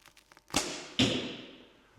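An arrow is shot from a bow in an indoor archery hall at about 18 meters, giving a sharp release snap followed half a second later by a louder thud of impact that rings out and decays.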